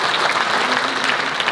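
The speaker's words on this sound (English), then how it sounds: "Let's give another round of applause" Banquet audience at an awards dinner giving a round of applause, a steady, full burst of clapping throughout with no break.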